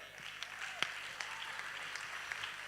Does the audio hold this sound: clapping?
yes